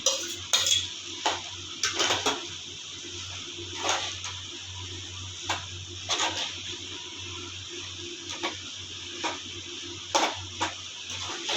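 Tamarind rice (puliyodarai) being mixed with spice powder and oil, heard as a series of clinking spoon-on-vessel scrapes and taps at irregular intervals, fairly near, with no talking.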